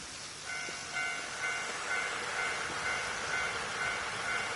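A railroad crossing signal in the video game Nostalgia Train rings in a steady repeating ding pattern, quiet and distant over a soft rail and ambient hum.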